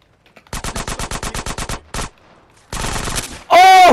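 Gunfire in GTA San Andreas Definitive Edition: a rapid burst of about a dozen loud automatic shots, a single shot, then another dense burst, ending as a player shouts over it.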